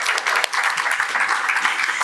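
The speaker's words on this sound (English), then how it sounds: "you can give yourself a round of applause" An audience applauds itself at a public health talk with Chicago's health commissioner: a brief, dense burst of clapping at steady volume.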